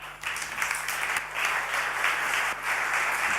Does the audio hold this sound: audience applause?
yes